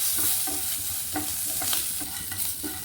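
Red chillies, turmeric and curry leaves hit hot oil with a steady crackling sizzle, broken by a few sharper spatters and pops, close and moderately loud, with no voices.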